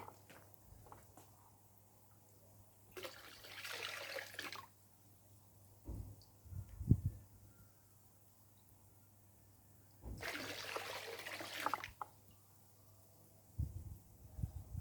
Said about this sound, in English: So I'm going to pour it into the inlet and let the drift of water take it itself.